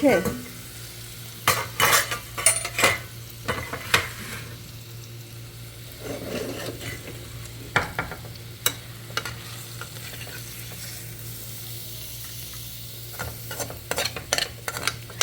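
Leftover curry of aubergine, potato and small mola fish reheating in a pan, soft continuous sizzle under repeated clinks and scrapes of a spoon stirring against the metal, fairly quiet and close.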